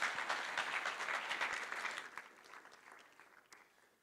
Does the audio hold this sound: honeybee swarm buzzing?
no